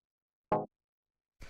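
A short synth stab built from detuned sine waves with FM, in a Toolroom-style house track, hits once clearly and then comes in again more faintly after a second of silence.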